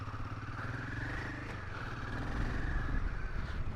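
A Royal Enfield Himalayan 450 motorcycle rumbles continuously up close as it is ridden out through a tight spot, its engine note rising slightly toward the end.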